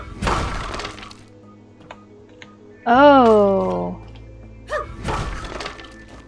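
A hammer smashes rocks in the video game My Time at Sandrock, giving sharp shattering thuds at the start and again near the end. A voice briefly exclaims between the hits.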